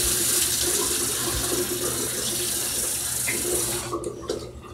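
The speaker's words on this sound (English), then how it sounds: "I rinse my face, and I'm gonna rinse it real quick, even though I just took a shower and stuff. Well, warm water, not cold or hot." Warm tap water runs steadily into a bathroom sink while someone rinses their face, a loud continuous splashing stream that eases off and thins out near the end, with no talk.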